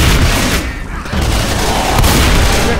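Heavy gunfire and booms from the Left 4 Dead 2 zombie shooter, loud and continuous throughout with dense low rumble and sharp crack bursts, a brief dip near the start before the barrage resumes.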